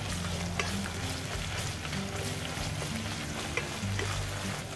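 Onions and ginger garlic paste frying in a pot while being stirred, a dense low sizzle with faint scraping under a steady background hum, no talking.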